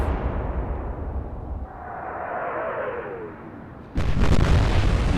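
Naval gunfire in the Atlantic Fleet video game, with a steady rumbling roar, a rising whoosh in the middle and a heavy blast bursting in near the end, loud and without speech.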